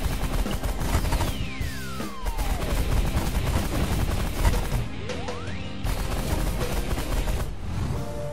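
Ships exchange weapons fire in the space strategy game The Last Federation, a dense barrage of crashing blasts and impacts with sweeping laser-like tones rising and falling, loud and continuous.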